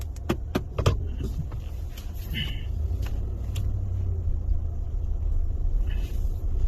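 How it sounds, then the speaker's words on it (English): Inside a 2020 Cadillac Escalade on the Alaska Highway in winter, a steady low road rumble drones throughout. A run of sharp clicks comes early and a few faint knocks follow. "So we're driving back a 2020 Cadillac Escalade."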